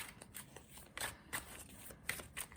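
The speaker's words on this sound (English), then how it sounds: "I was just gonna shuffle a few times, cut the deck," Tarot cards being shuffled by hand, a series of brisk riffling bursts with short pauses between, close and fairly quiet with no talking.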